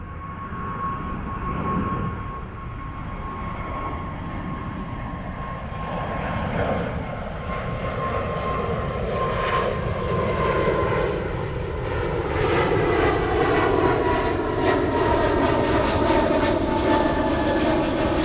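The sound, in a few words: airliner taking off at Zurich airport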